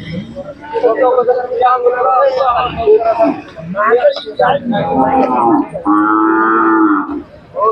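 Cattle low loudly at the Sunday Sangola livestock market, with several drawn-out moos, the last one long and strong, over a background of traders' voices.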